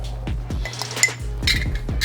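A spoon clinks against a pot while ingredients for Southern baked mac and cheese are stirred with homemade pepper blend, giving several close, sharp knocks and scrapes in an irregular rhythm, with no talking.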